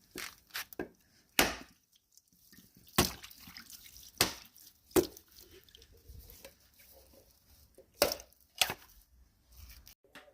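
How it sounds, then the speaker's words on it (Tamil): A coconut being broken by hand, heard as several sharp isolated cracking knocks spaced irregularly across a quiet room, close and fairly faint, with small clatters between them. "இனி தேங்காய் உடைப்போம்"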